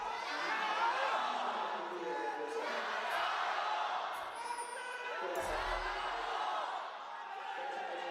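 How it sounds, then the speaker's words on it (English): A large crowd at a League of Legends LPL playoff match between WE and IG roars and cheers continuously, a dense wash of voices that swells and sustains, with rhythmic team chants blended into the noise. "People getting a little confused between the IG and WE chants"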